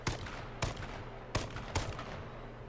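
Four sharp gunshots fired in the online battle royale game H1Z1, spaced irregularly over a couple of seconds against a steady low background hum, no talking.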